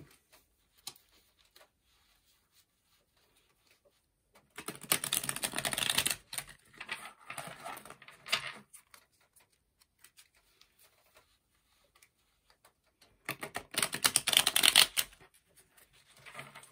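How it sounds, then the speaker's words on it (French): Tarot cards are shuffled by hand in two separate bursts of quick, crisp riffling, close and clear, with near silence between them. "Allez, on remélange et on va faire un tirage à 9 cartes."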